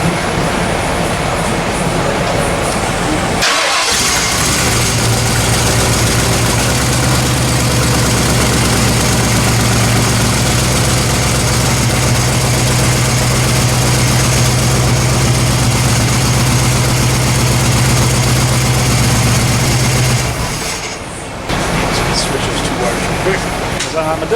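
A Ford Bronco engine fitted with a BluePrint Ford engine and Holley Sniper EFI runs loud and steady up close, a continuous droning idle with brief dips near the start and end.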